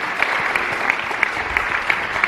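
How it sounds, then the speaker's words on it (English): Steady round of applause at a public debate on an Illinois progressive income tax, moderately loud and even, with a few sharper individual claps standing out from the crowd. "Give him a big round of applause."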